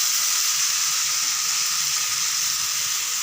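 Cauliflower and peas, fried earlier, go into hot oil with masala, setting off a loud, close, continuous sizzle with no talking.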